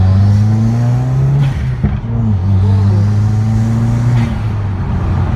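A Subaru WRX turbocharged engine with a COBB intake revs hard under acceleration, a loud sustained drone rising and dipping in pitch, with a brief shift break partway through.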